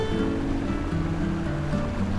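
A boat ride on the river Ausa toward a marina, with a steady rush of water and engine hum filling the scene continuously, up close and unbroken.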